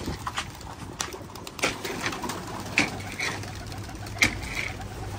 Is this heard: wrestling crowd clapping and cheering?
no